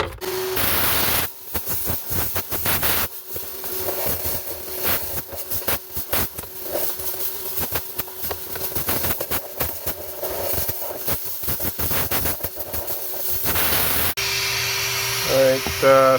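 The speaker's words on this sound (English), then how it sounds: "We're going to start by blowing through this way." Compressed air blasting mud out of the A/C evaporator on a Kubota SVL track loader, a loud continuous broadband hiss with irregular bursts and pulses as the nozzle moves, running nearly the whole time.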